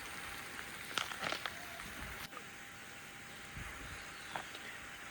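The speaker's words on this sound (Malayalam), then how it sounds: "ഇപ്പം മഴ പെയ്യുവാണ്" Rain falling in the forest of Periyar Tiger Reserve, a faint, steady hiss of drops with a few soft nearby taps and splashes, no voices.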